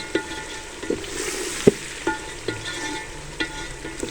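Chicken korma sautéing in a pot for layered chicken biryani, with a steady sizzle broken by sharp scrapes and knocks of a spoon against the pan at irregular moments, fairly close and moderately loud, no voices.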